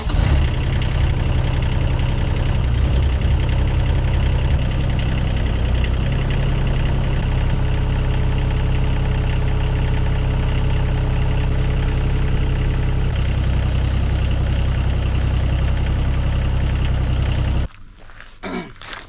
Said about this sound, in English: I'm gonna back the trailer a little bit.